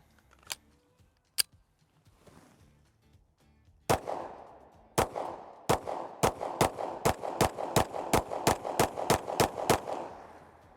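Rapid pistol shots from a Shield X Carry Comp compensated carry pistol: two isolated cracks, then a steady string of about a dozen sharp, loud reports in quick even rhythm, with no talking.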